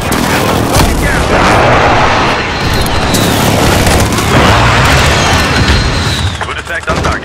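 Heavy booming blasts from an airstrike in Call of Duty: Modern Warfare, loud continuous explosions and rumbling impacts with gunfire mixed in, and voices talking over the din.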